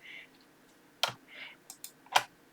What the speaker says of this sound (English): we're going to select them both and right click and group them